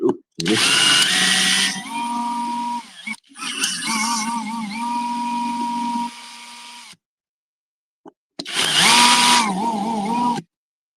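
A power drill bores a hole and throws out small shavings, running in three loud whining bursts with the motor pitch wavering as it bites, then stopping between runs, with no voices.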